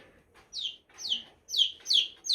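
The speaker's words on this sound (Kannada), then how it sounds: "ಕೋಳಿ ಹೆಂಗ್ ಮೇಕೋಯ್ತು ನೋಡಿ, ಹಿಂಗೆ ಕರಿಯೋದು" A caught chicken chick cries in a series of five shrill, piercing peeps, evenly spaced and close up, with little else around.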